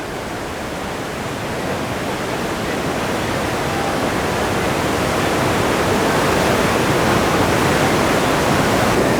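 The Niagara River gorge rapids rush in a dense, unbroken roar of whitewater, loud and close, holding steady and building slightly throughout.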